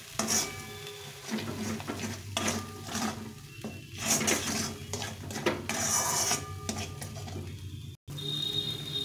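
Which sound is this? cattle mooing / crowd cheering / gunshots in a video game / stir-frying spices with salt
stir-frying spices with salt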